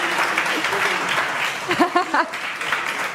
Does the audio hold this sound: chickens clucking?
no